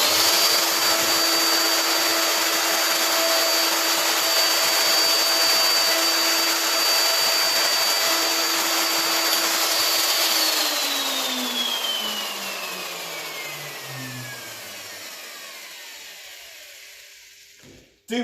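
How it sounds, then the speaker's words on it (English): Plunge router running at full speed in a woodworking shop, a loud steady high whine that drops away as the motor is switched off and spins down, ending in a brief clunk, with no one speaking. "So we turn the router on again."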